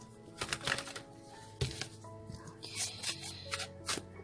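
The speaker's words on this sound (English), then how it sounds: "One more shuffle, they say." Tarot cards are shuffled by hand up close, giving a string of crisp clicks, riffles and soft flutters in irregular bursts.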